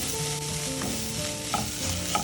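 A spoon scrapes and stirs a spiced mixture of pepper powder and garam masala frying in a pan, close and busy with sizzling, plus a couple of brief sharper scrapes near the end.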